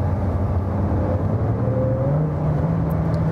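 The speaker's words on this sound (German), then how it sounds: "der V8-Sound, der V8 Biturbo, der hier in einer Tour, wenn man Stoff gibt, pfeift und piepst" A V8 biturbo car engine drones steadily and loudly from inside the car under acceleration, its tone climbing slightly with a faint whine riding on top.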